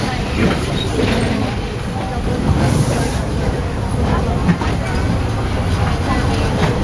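Disney World's Magic Kingdom railroad train rolls along in a steady low rumble and rattle of carriages, with faint clicks of the track, heard close up throughout with a recorded announcement voice over the top.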